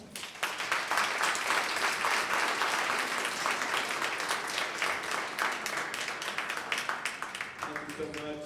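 Audience applauding an introduced speaker at a public event honoring Cesar Chavez, sustained dense clapping at steady loudness for over seven seconds, with a voice starting to speak near the end.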